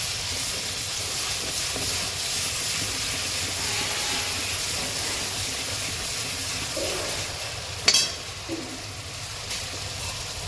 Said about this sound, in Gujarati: તેલ થઈ ગયું છે, એમાં આપણે આ જે લસણ ને મરચું ખાઈ છે એ નાખી દઈશું